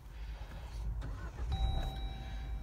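A new 2018 Jeep Wrangler with a 2-liter turbo engine starts up at a dealership, its low rumble fairly faint. A steady electronic chime sounds partway through.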